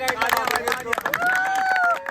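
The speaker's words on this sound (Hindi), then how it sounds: "ये रजत रावत के लिए जोरदार तालियां" Group of Ramleela team members clapping loudly for a colleague during a meeting, close rapid handclaps with voices and chatter mixed in.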